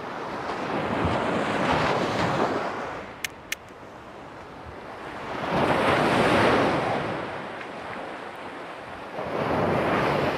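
Ocean waves surging on a beach, a continuous broadband wash that swells and recedes in slow cycles, with wind buffeting the microphone and a couple of faint sharp clicks in between.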